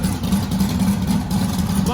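A big-cam twin-turbo LS engine idles roughly nearby, a loud, steady low rumble with a lumpy pulsing beat that fills the whole stretch.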